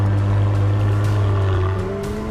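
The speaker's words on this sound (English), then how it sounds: "With the new anhedral doors, a first for McLaren, plus the soundtrack of the exhaust" McLaren W1 supercar exhaust roaring loudly and steadily, a deep engine drone with a rising tone and faint tire-like squeal near the end, alone without talk.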